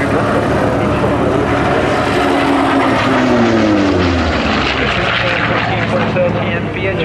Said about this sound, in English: And the Bearcat still goes on doing the yo-yo.